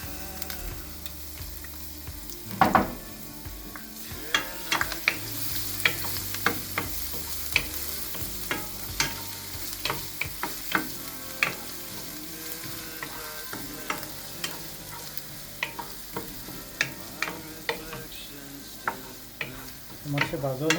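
Curry leaves, ginger and garlic sizzle and fry in a home kitchen pan with steady crackle, punctuated by frequent sharp utensil clicks and scrapes from stirring, close and clear with no talking.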